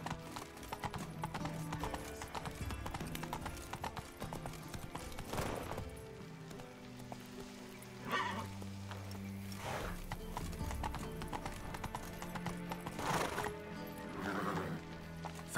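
A horse gallops in The Witcher 3 video game, with rapid rhythmic hoofbeats throughout and several loud neighs partway through, close.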